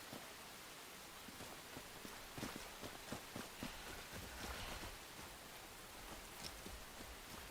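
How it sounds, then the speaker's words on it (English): Steady rain falls in the survival video game Enshrouded, a soft continuous hiss with scattered patters of drops, fairly faint and uniform throughout, with no talk over it. "I can see the rain on my screen"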